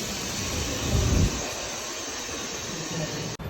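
A passenger train running from the Gold Coast to Brisbane Airport gives off a steady, close interior rumble and hiss, swelling slightly around the one-second mark, with a sharp brief dropout near the end.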